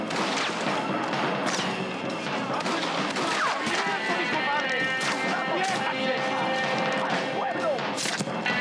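Gunfire crackles in Red Dead Redemption, a dense, chaotic fusillade of sharp shots and impacts layered over shouting voices, with bursts coming close together across the whole stretch.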